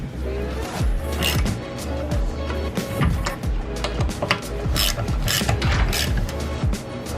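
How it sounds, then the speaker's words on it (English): Lug nuts on a Toyota Camry wheel are tightened with a ratcheting tool, giving rapid metallic clicking and ratchet bursts in uneven runs, close and loud. "I'm gonna just tighten it up with the tool after."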